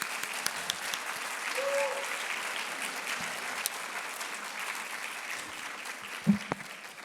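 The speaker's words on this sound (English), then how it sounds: "Round of applause, please." Sustained applause from the audience at a School of Health Professions convocation ceremony, an even wash of many hands clapping for seven seconds, with a brief voice surfacing near the end.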